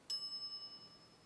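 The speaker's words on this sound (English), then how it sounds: "Ring bell for service. Will do." A single bright ring of a service bell in the Monkey Island pirate adventure game, one sharp strike whose pure tone lingers and fades over about a second.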